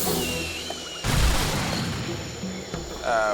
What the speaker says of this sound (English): let's go ahead and blow them all up for some items